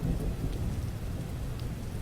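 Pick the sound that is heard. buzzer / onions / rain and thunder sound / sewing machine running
rain and thunder sound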